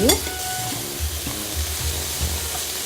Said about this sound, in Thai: ที่เราเอากิมจิมาผัดก่อนเนี่ยค่ะ